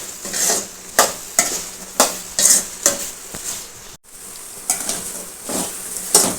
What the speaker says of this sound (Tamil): மிளகாய்த்தூள் கொஞ்சம் போட்டு நல்லா கிண்டிக்கிறணும் கிளறிட்டுக்குருவோம்